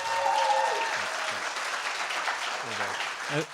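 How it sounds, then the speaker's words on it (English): Sustained applause from an audience fills the room, steady clapping throughout with a few voices faintly underneath. "Let's be a big applause to Fabian and Fabian's team traveling to Est"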